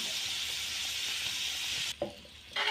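A spiced mixture for a ridge gourd curry is stirred in a pan over a low flame, giving a steady close hiss of gentle sizzling with a brief scrape of the spoon near the end.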